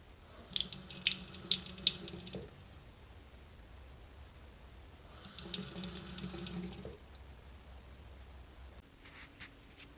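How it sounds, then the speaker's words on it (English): Water gushes from a faucet in two bursts of a few seconds each, separated by quiet, with a brief third splash at the end. "let's try this out, see how this faucet may sound"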